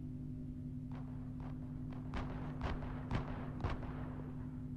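Several sharp gunshots in the video game Heat Death Survival Train crack out one at a time at irregular intervals over a steady electronic hum, moderately loud but somewhat distant.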